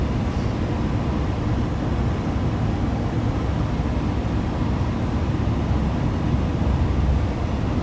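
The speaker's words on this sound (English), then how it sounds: "that's with the blower on screen going flat out" A heater blower in a Transit van runs flat out while driving through Arctic cold at minus 21, giving a steady, loud broadband rush with no break, mixed with low road and engine rumble.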